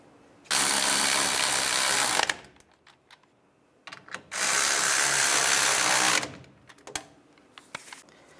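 A power ratchet drives brake caliper bolts on a 2007–2013 Chevrolet Silverado 1500 during front brake work, with two loud, sustained whirring bursts of about two seconds each and small metallic clicks and knocks between them.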